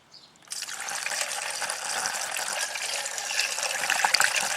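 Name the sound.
water being poured into a car coolant reservoir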